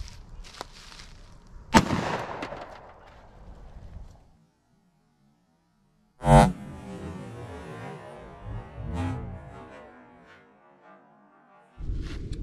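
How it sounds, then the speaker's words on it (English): A 9mm +P Underwood Xtreme Defender 90-grain round fired from a Glock 19 or Sig pistol into clear ballistics gel: three sharp, loud shots spaced several seconds apart, each followed by a brief ringing decay. "let's line up and make some shots"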